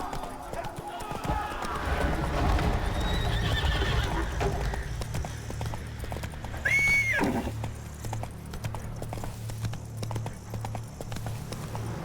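The horse Roach gallops in The Witcher 3: Wild Hunt, Blood and Wine, with rapid hoofbeats under a man's speech, a loud neigh midway, then quieter stamping over a low hum.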